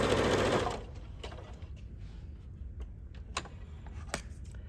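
Sewing machine stitching across fabric seam samples, a loud dense whir for the first second that stops, followed by faint quiet handling and a few light clicks.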